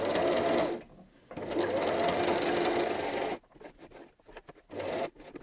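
Home sewing machine stitching a t-shirt with lace trim, running in steady rapid bursts of whirring stitches with short pauses between runs, close and fairly loud.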